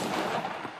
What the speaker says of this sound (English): I just hit that headshot